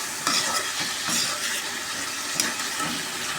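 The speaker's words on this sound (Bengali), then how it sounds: "খুব সুন্দরভাবে চিকেনটা আমি কষে নিয়ে" Chicken being stir-fried in a pan, with steady scraping strokes of a spatula repeating in a loose rhythm over a constant sizzle, close and fairly quiet, with no voices.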